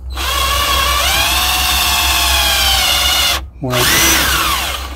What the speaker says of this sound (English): I'm drilling these holes so that